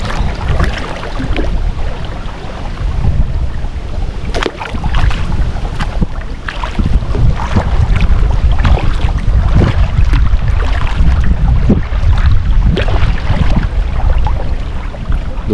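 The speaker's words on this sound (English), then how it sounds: "The wind is at my back, so I'm really cruising along here." Steady wind buffets the microphone on a lake in Minnesota while a small boat moves along, with water sloshing against the hull in a continuous loud rush and occasional sharper gusts and splashes.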